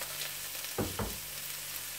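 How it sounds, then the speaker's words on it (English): Shrimp frying in a spoonful of oil in a pan, a soft continuous sizzle with a couple of brief louder stirring scrapes in the middle, fairly quiet and with no talking. "let it simmer down a little. While the shrimps is cooking."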